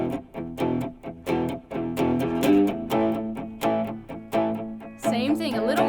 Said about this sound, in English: I'm going to click on some distortion.